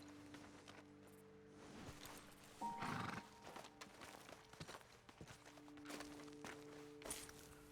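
In the video game Red Dead Redemption 2, a horse whinnies once amid soft clip-clopping hooves and footsteps, with a quiet ambient drone underneath.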